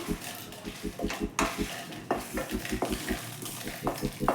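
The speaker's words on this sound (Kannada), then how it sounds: "ಡ್ರೈ ರೋಸ್ಟ್ ಮಾಡ್ಕೊಂಡಿರೋಂಥ ಒಣಮೆಣ್ಸಿನ್ಕಾಯಿ ಹಾಕೋತಾ ಇದ್ದೀನಿ" Dry-roasted red chillies tossed into hot tempering oil for a horse gram upsaaru, with steady sizzling and frying under repeated rhythmic stirring and scraping of a spoon against the pan, close and fairly loud, no talking.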